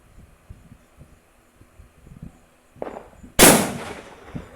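A few faint pops and crackles lead up to one sharp, loud bang of a red firecracker that rings out and fades quickly.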